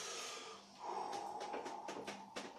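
A patient breathes out audibly during hands-on spine manipulation, a close, steady breathy exhale with soft snorting gusts and rhythmic puffs of air, no talk over it.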